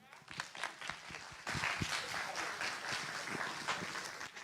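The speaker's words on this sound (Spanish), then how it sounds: "Un aplauso para ustedes" An auditorium audience at a forum talk breaks into a dense, sustained wash of applause that starts after a short stretch of speaking and carries loudly to the end.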